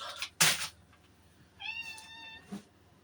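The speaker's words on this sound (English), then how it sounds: "A kitten pretending he's hungry." A kitten named Rizzo gives two harmonic meows, a loud sharp one near the start and a longer, clear rising-falling cry a second later, close by in a quiet kitchen.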